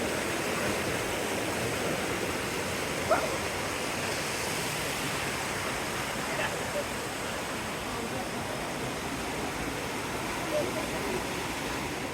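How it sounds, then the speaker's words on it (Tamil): Fast-flowing stream water rushing over rocks near the waterfall by a hill temple at Thirumoorthi Hills, Udumalpet, Tamil Nadu, a steady, dense, broadband roar that stays continuous and close throughout. "இங்கே தண்ணி வேகமாக வருது வாக்கம்"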